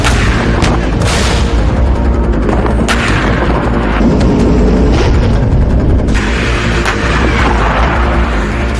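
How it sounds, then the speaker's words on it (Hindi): Tank and artillery fire in war footage from the Russia–Ukraine front, a dense run of loud booms and sharp gunshot cracks rolling one after another without pause, heavy and continuous throughout. "पुतिन के टैंक बनाम ज़ेलेंस्की के टैंक्स, अंधाधुंध फायरिंग"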